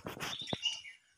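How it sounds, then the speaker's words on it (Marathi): A bird gives a brief, faint burst of high chirps in a quiet forest beside the Gavli Dev temple on the Kalsubai trek route, over in about a second. "कुठल्याही प्रकारचा आवाज नाही, फक्त पक्ष्यांचा प्राण्यांचा आवाज येतोय आपल्याला."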